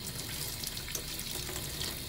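Water runs steadily from a tap or sprayer while shampoo is rinsed off a dog's face, a continuous close hiss and splash with no pauses.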